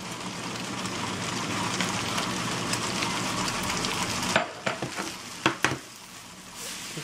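Onion tossed into a hot pan of pancetta and butter, sizzling and frying steadily, with a few sharper clinks and stirring knocks near the end as the sizzle drops off.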